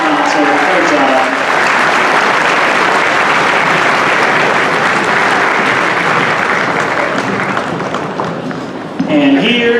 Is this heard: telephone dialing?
no